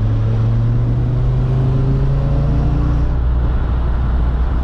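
A Savoy car with a VR5 engine drones loudly and steadily at high RPM, holding a constant, close engine tone throughout with no talk.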